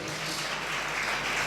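A church congregation applauding during a sermon, a dense, steady wash of clapping filling the whole short moment at moderate loudness.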